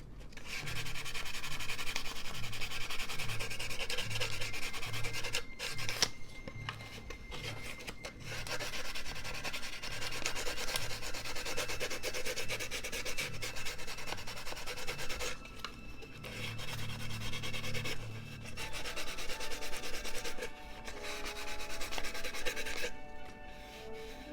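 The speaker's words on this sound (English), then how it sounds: "You're filing down any roughness that you feel around the edges here." A nail file rasps along the edges of plastic model kit parts in steady, quick back-and-forth strokes, close and fairly quiet, with a few short pauses between bursts of filing.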